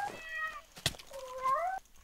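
A cat meows twice, a drawn-out wavering cry followed after a short sharp click by a second rising and falling meow, close and clear with no talking.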